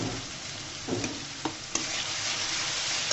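Radish with salt sizzles quietly in a frying pan, a constant soft hiss with a few brief scrapes as it is stirred.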